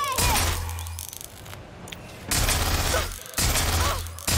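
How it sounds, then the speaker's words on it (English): Gunfire in Watch Dogs Legion comes in several sharp bursts of shots separated by brief pauses, loud and close with clattering mechanical edges. "little hail of gunfires"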